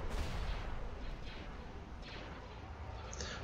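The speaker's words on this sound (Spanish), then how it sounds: "Tienen disparos iónicos." Star Wars ships in a space strategy game fire ion cannons, sharp blasts and bursts sounding over a dense, rumbling battle backdrop.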